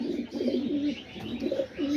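Low, throaty cooing from several pigeons fills a loft on a rainy day, repeated rolling calls overlapping close by.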